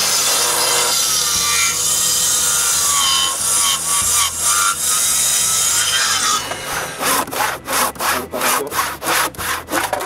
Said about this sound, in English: Then it's time to cut the posts to length.